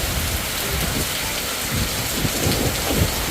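Heavy rain pours down over a village in Jaffna, a dense, steady hiss broken by low thunder rumbles underneath, with no voices.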